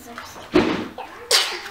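Two quick sneezes, close and sharp, the second higher and breathier than the first, with a short gap between them.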